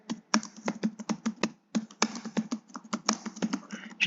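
Typing on a computer keyboard while entering text into an Excel spreadsheet cell, a quick, close run of irregular key clicks with a brief pause partway through.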